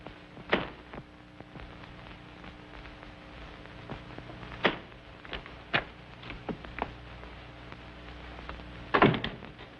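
A door shutting as a radio drama effect in a mystery play, a few sharp wooden thunks and knocks spaced irregularly over a quiet hum, close and distinct, no talking.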